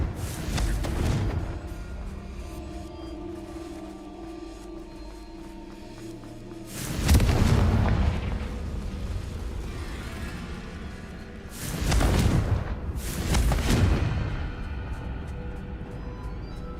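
Fire spell blasts in the Hogwarts Legacy video game, three separate bursts with a whooshing, booming attack, the last two close together, each fading into a low ambient hum.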